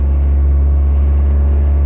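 Honda Civic Type R fitted with a Remus exhaust, a steady, loud, deep engine drone while driving, smooth and unbroken with no talk over it.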